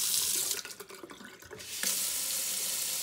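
Water runs and drains in a kitchen sink just unclogged with a Ryobi 18-volt ONE+ drain auger, a steady close splashing gush that briefly thins before returning at full strength.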